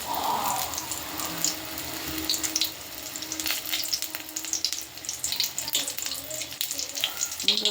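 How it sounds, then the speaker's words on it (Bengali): Bok flower fritters fry in hot oil, a steady close hiss and crackle with scattered sharper pops running throughout. "এই দেখো তেলের মধ্যে ছাড়ছি খুব ভালো লাগে গরম গরম বক ফুলের বড়া"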